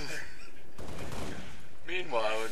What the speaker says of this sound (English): The needle rifle is... there's so much pause between each shot.